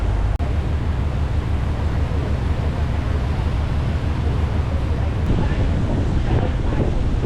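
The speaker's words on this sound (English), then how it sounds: "the wind, it was blowing sideways to the ship and now it's blowing directly behind us" Strong wind buffets the microphone on the deck of a ferry leaving Wellington, a loud continuous roar with low rumble and a faint wash of water beneath, steady throughout.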